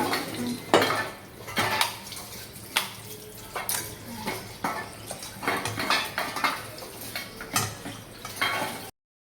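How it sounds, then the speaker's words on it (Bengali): Metal kadai wok being scrubbed at a kitchen sink, with repeated clanks and scraping strokes of metal against metal in an irregular rhythm, close and moderately loud, with faint water sounds in the background. "এই কড়াইটা একটু মেরে নিই, মাজা কড়াই"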